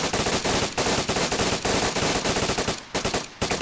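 Rapid bursts of MP5 gunfire in the DayZ video game, firing at a quick cyclic rate in repeated short strings of shots that carry loud and close with brief gaps between bursts.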